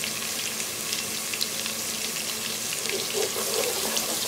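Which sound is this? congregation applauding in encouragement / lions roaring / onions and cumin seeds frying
onions and cumin seeds frying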